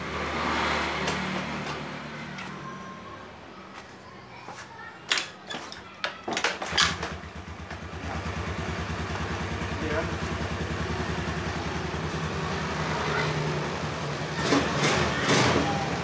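A carbureted Honda Beat scooter engine idles steadily after starting, a continuous low motor hum with a few clattering knocks and brief throttle surges, while someone talks over it.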